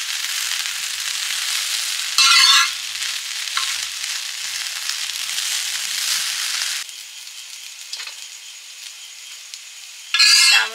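Egg chicken chowmein stir-frying on a tawa, a continuous close hiss of frying with brief louder bursts of sizzle as the noodles are tossed, no talking.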